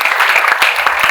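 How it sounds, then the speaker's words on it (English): A conference audience claps in a dense burst of applause, close and loud, lasting only about a second. "let's give a round of applause to them"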